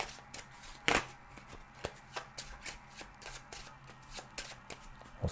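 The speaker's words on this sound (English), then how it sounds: "We don't get to look at it, and we'll shuffle that in there real good." Cartographers game cards being riffled and shuffled by hand, a close series of crisp flutters and taps with one sharp burst near the start, no talking.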